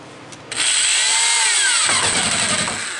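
A power drill drives a screw into a toe board, whirring up abruptly and holding a loud, close whine for about two and a half seconds, its pitch shifting as the screw bites and seats.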